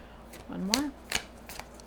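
Tarot cards are shuffled and drawn from the deck in a few quick, close-up riffles and flicks, with a voice partly talking over the card handling.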